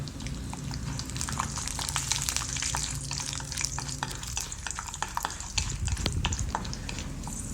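Avalakki (flattened rice) fries in a pan while being stirred, giving a steady sizzle under repeated scraping and rustling strokes, close and clear, with no talking.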